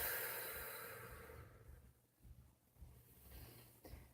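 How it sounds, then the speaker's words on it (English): A single deep cleansing breath drawn in and released near the end of a guided meditation, soft and close with quiet room hiss, no talking. "Take a nice deep cleansing breath."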